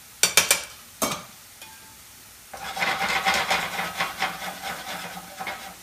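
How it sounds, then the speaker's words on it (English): Vegetables are stirred in a hot sauté pan, starting with a few sharp utensil knocks against the pan and followed by a steady close sizzle with scraping stirs. "So I'm just gonna stir them up a little bit here."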